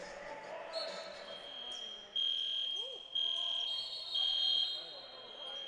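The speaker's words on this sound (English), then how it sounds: "we have a fire alarm going off in the Dow Centennial Center" A fire alarm in the Dow Centennial Center arena during a junior lacrosse game sounds in repeating high electronic pulses over crowd murmur, and a commentator talks underneath.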